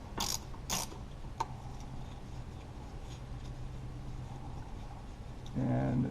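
A ratchet fitted with a 5/16 socket loosens tight turbo bolts on a Lincoln MKT 3.5L EcoBoost engine. It gives a few sharp, close clicking bursts, then quieter workshop noise and a louder buzzing stretch at the end.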